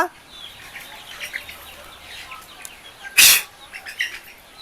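Faint chirping of chicks about 36 days old on a layer farm, with occasional clucks amid low background noise, and one short loud burst of noise partway through.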